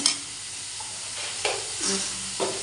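Ginger-garlic paste, cumin powder and other spices frying in a pan for a prawn curry, a steady loud sizzle close up with a few spatula scrapes and stirring swishes, no voices.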